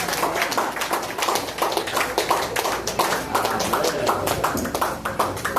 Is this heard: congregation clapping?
yes